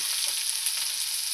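Potatoes fry in oil with turmeric and salt for an aloo broccoli egg curry, giving a steady, close hissing sizzle that runs unbroken through the whole short stretch.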